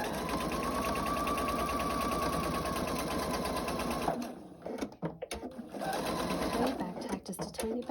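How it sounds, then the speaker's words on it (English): A sewing machine stitches elastic onto a medical face mask, running steadily and close for about four seconds, then stopping and restarting in short bursts for a brief back-tack while a person talks. "and sew over it"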